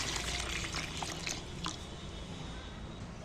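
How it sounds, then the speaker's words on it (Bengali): Water is poured into a cooking pan holding young jackfruit, making a soft, brief splashing pour that settles into a quieter trickle. "এবার আমি জলও ঢেলে দিচ্ছি এর মধ্যে"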